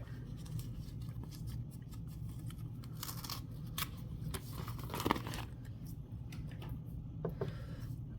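Quiet snips of Tim Holtz scissors cutting through vinyl, a series of short crisp cuts against a soft background hum.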